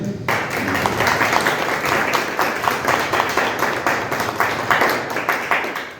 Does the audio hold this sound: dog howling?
no